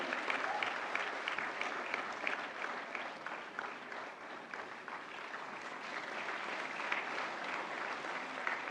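Sustained applause fills a large hall at the 69th National Film Awards ceremony as a director is honoured, an even wash of many clapping hands heard at a fair distance and fairly faint.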